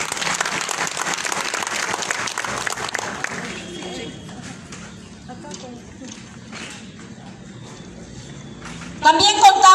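Crowd applause at a swearing-in ceremony in San Andrés Huaxpaltepec, Oaxaca, starting as a loud burst of clapping that fades into scattered claps and murmur, with a louder sound returning at the end.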